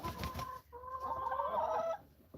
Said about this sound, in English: I've got another silver hen.